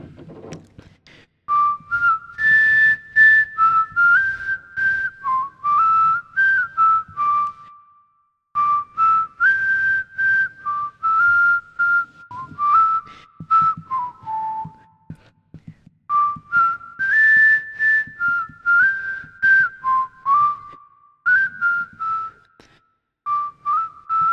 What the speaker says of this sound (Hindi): ये मेरी सीटी है